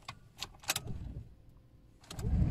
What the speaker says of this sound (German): Meine Frau versucht jetzt mal den Wagen zu starten.